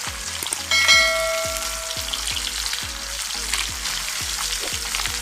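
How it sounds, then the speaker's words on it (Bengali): Rohu fish pieces fry in hot oil with a loud, continuous crackling sizzle close by, while low knocks repeat at a steady pace underneath. No voices are heard. "এবার মাছগুলো দিয়ে দেব। এক পিঠ হতে থাক।"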